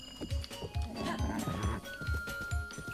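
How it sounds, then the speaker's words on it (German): Rhythmic hoofbeats of a galloping horse in the video game Zelda: Breath of the Wild, steady low thuds repeating about every third of a second, with a faint tonal game backdrop. "das Pferd reitet aber von Anfang an in die ganz andere Richtung, als ich es eigentlich will"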